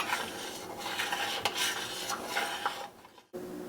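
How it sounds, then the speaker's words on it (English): A spoon stirs grits in a pot in a home kitchen. The scraping and rubbing are steady and close, with a few sharper knocks against the pot. No one talks. "I'm gonna keep stirring"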